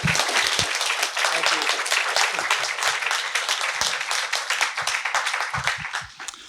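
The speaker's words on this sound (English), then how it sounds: "Can we please have a very big round of applause for these 2?" Audience applause at a talk with two authors, a dense and even wash of many people clapping, moderately loud and sustained throughout, with a voice briefly heard under it.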